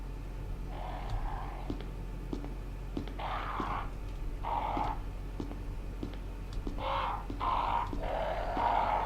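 Crows caw in a Resident Evil HD Remastered game scene, several harsh calls repeating in irregular bursts over a low ambient drone.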